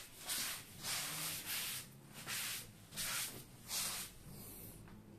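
A sponge wet with strong cleaner rubs sanding dust off a leather car seat, six rhythmic hissing swipes about a second apart, faint and close, with no talk.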